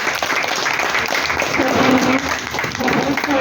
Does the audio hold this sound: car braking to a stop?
no